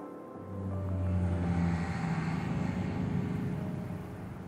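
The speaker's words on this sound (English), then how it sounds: "What's that drone doing?" A drone passes overhead in the video game Scarlet Nexus, a steady droning engine hum that swells over the first second, holds loud, then eases slightly, with no talk over it.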